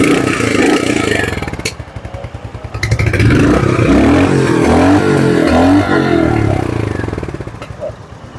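A Royal Enfield Hunter 350 motorcycle engine revs up loudly and close, in a shop setting. The throb surges several times, then drops back to a chugging idle.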